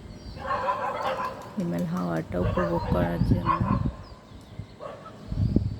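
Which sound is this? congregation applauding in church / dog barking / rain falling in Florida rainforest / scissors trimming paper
dog barking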